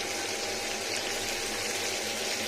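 Pieces of small rohu-type fish frying in oil over lowered heat give a steady, dense hiss that holds evenly throughout, close and continuous.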